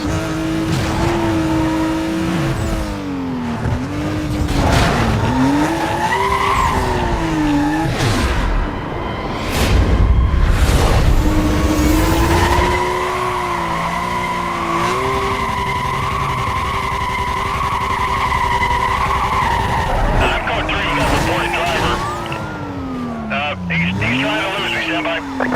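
A police chase in a video game with a black Porsche as the suspect car, its engine roaring loudly with long screeching tire skids and swerves throughout, while a voice talks over the game sound.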